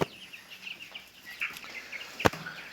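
Faint chirps and clucking from chickens scattered through a quiet outdoor scene, with one sharp click partway through.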